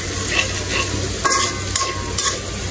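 Masala frying in oil in a pan while being stirred, a loud close sizzle with repeated scraping strokes of a spoon against the pan's bottom.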